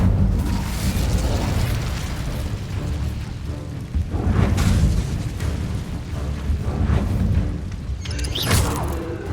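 Casting the Incendio fire spell in Hogwarts Legacy brings a dense, continuous roar of fiery bursts and rumbling booms, loud and unbroken, with a sharper flare near the end.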